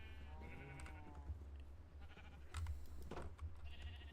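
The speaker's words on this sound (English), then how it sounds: "Yes, follow me, sheep. Don't you hear how they talk in unison?" Several Minecraft sheep bleat in a virtual farm pen, a few overlapping wavering calls, some close and some further off, with no talk.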